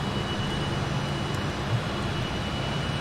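Classic airliner engines droning steadily in a flight simulator game during a climb-out along the coast of Australia, a continuous broadband roar with a low rumble, heard alone at a constant level.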